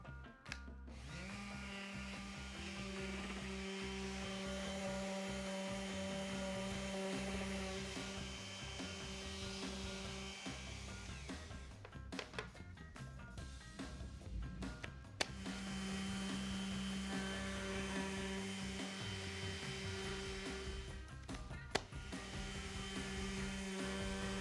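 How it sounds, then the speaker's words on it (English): A Festool DTS 400 finish sander runs with its dust suction turned almost all the way down while sanding a wooden outdoor table. Its steady whirring motor drone has a few brief dips. "For the DTS 400, since it's more of a light finish sander, I'm going to go ahead and turn the suction down almost all the way."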